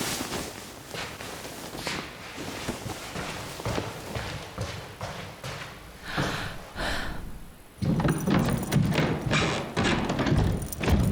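A dancer takes a dramatic fall in a K-pop music video, heard as heavy thuds and bumps within the track's music and sound design, with a louder surge near the end.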